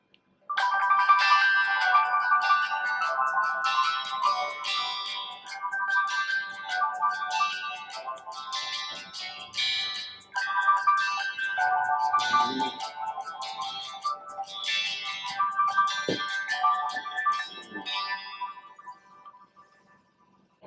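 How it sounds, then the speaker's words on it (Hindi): A melodic ringtone plays through a smartphone loudspeaker during a speaker test comparing a Tecno Camon I Twin, Redmi 5 and Infinix Hot S3, with bright repeating chiming phrases, clear and fairly loud, breaking briefly in the middle and stopping near the end. "एक और रिंगटोन को प्ले करते हैं।"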